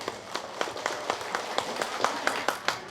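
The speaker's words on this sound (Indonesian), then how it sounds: "Tepuk tangan heula kanggo sadayana atuh." Clapping from the audience at a lighthearted Islamic sermon given by a woman preacher in a village, a sparse, steady patter of individual hand claps at a fairly even pace with no talking.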